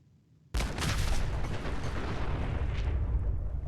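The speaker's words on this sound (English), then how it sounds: "Let's go ahead and grab a grenade." A grenade goes off in Fallout 4, an abrupt loud blast followed by a sustained rumbling roar and debris noise that lingers for several seconds, with no talk.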